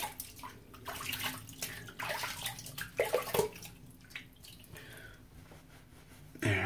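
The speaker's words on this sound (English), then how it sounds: "We're going to go ahead and rinse off and see how we did here." Water runs and splashes unevenly from a tap while someone rinses their face after a wet shave, with gurgles and faint drips and no voices.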